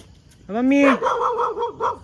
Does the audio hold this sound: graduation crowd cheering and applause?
no